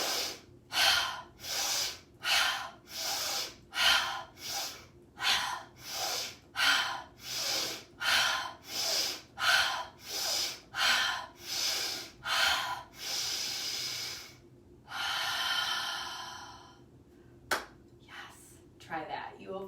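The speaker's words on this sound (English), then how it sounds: "I'm just gonna do a little bit of breath work." Rapid rhythmic breathing during a breath work exercise, about twenty sharp forceful breaths in a steady pulse, followed by a longer drawn inhale and a slow release, close and loud.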